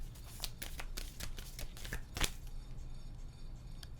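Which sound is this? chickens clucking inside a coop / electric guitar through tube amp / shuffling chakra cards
shuffling chakra cards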